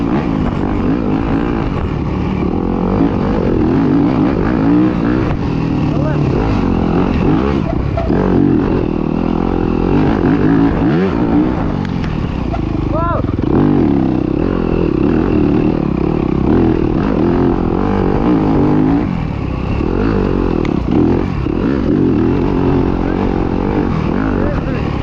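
A dirt bike climbs a flowy trail uphill in a race, its engine droning continuously and close with frequent revs and shifts, and a rider's voice talks over the ride throughout.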